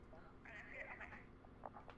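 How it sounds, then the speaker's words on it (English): A telephone rings faintly once in a police department office, a short electronic trill over low background noise. "That's the phone."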